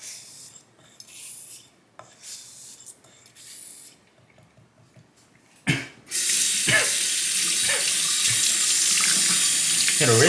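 Water runs steadily from a tap as a straight razor blade is rinsed beneath it, a loud continuous splash starting abruptly partway through after quieter scraping and handling noises.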